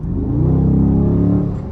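A 2020 Dodge Charger Scat Pack with the 392 engine revs loudly up close, a deep rumbling V8 swell that rises and holds before easing slightly, with no talk over it.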